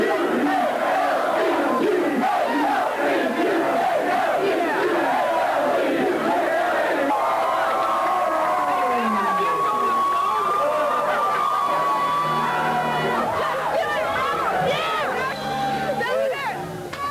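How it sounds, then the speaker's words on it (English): A wild arena crowd after the 1990 Final Four UNLV versus Georgia Tech game, roaring, whooping and chanting in a dense continuous wall of voices, loud and sustained throughout. "if you thought that was a wild crowd, it's still here"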